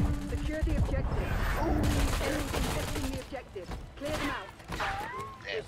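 Burst-fire gunshots from the video game Black Ops 6, loud rapid volleys over busy game sounds, with voices talking throughout.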